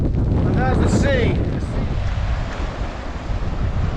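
Sea waves and strong wind on a Scottish island, loud gusting wind buffeting the microphone over a rushing surf wash, with a brief burst of indistinct voice near the start.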